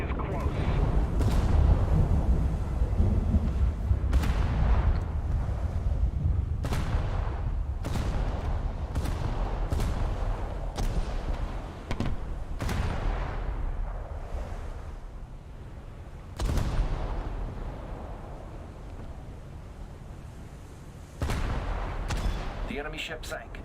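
Heavy British battleship guns fire in a naval video game, booming salvos recurring every second or two with deep rumbling tails over a dense low roar, a few sharper blasts standing out later, while a player talks underneath.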